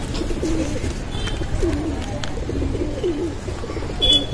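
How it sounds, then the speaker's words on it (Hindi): Low, soft cooing of pigeons repeating over a steady outdoor hum, a few faint chirps above it. "एक ये ऊपर कबूतर बोल रहा है"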